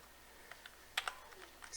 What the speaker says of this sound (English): Then we are going to type